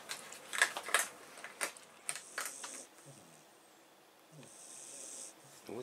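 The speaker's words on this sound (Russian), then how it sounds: "Растем. Да, организм растет и начинает уже храп издавать." A three-month-old baby snoring softly indoors, a few quiet breathy snores, close but faint, with light clicks and rustles nearby and no talking.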